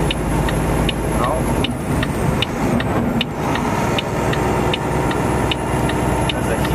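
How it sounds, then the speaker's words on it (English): Heavy haul truck engine pulling up a hill, revving to about 1600 RPM, a loud, steady low drone with a faint regular ticking, heard from inside the cab while someone talks over it. "There's a hill. So sometimes you have to rev up to 1600."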